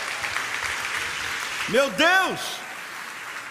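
A church congregation applauds in a steady wash of clapping while a voice shouts out briefly over it near the middle.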